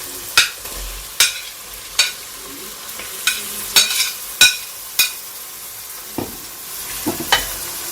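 Tomatoes added to a pan and sautéed with browned onion for chapati egg kothu, a soft sizzle broken by sharp, regular spatula taps and scrapes against the pan, close and alone.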